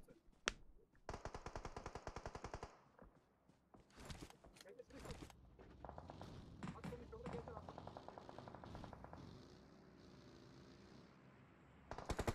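Automatic gunfire in PUBG Mobile, rapid rattling bursts of shots at close range separated by short pauses, with scattered single shots and footsteps, under a commentator's talk.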